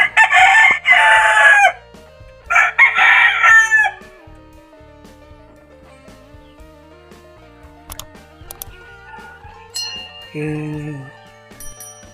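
Four-month-old chicks crowing and clucking, with two loud harsh crow bursts at the start followed by quieter clucks, scattered calls and a short tonal call near the end.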